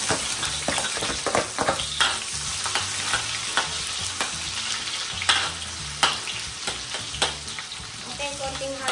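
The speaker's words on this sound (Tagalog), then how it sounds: "At syempre, igisa na natin una yung sibuyas." Onions sauté in a pan still holding fat from fried chorizo, a steady close sizzle broken by frequent scraping stirs throughout, with no talking.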